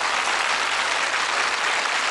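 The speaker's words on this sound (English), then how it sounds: "give them a nice warm round of applause" A studio audience claps for the contestants on a television game show, giving a dense, steady wash of applause that stays loud and even throughout with no pauses.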